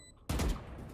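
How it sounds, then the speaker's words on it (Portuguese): A Valorant gunshot bursts in sharply after a quiet start, one loud close blast that fades into a short ringing tail, with no talk over it. "Ah, era um tiro, acertei um tiro nela."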